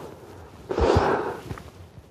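A single sharp, breathy burst from one person nearby, like a sneeze, followed by a couple of soft thumps and a quieter room.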